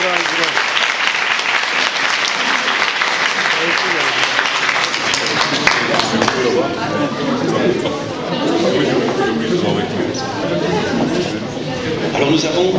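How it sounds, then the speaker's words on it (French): Applause fills a hall for a student at a school diploma ceremony, dense and steady clapping that carries on for several seconds with crowd chatter mixed in. "Applaudissons Kubra Curel."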